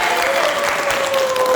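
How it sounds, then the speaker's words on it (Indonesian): A classroom group applauds together, steady dense clapping held at a loud, even level for under two seconds with no pauses. "Tepuk tangan kita semua."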